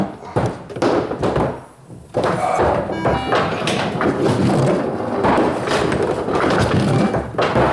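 Stern James Bond 007 pinball machine, Limited Edition and 60th Anniversary, with balls fired into play: dense thumps, knocks and mechanical clatter run continuously and loudly, with a brief lull near the two-second mark.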